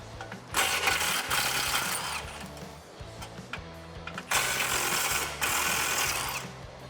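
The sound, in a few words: socket wrench unbolting Mustang exhaust hangers from frame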